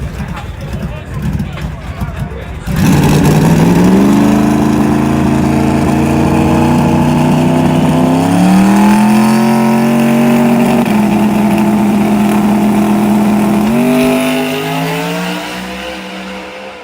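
A Lamborghini supercar engine roars loud and close after a quiet start, climbing through repeated revs and gear shifts as it accelerates hard, with a brief dip and another climb near the end.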